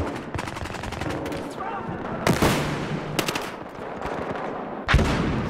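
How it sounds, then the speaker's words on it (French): Rapid rifle fire from an SA-58 OSW in the video game Battlefield Hardline, heard as short loud bursts of sharp, close shots separated by brief pauses, with faint game sounds in between. "C'est chiant cette arme, tu tires une balle, ça en tire deux"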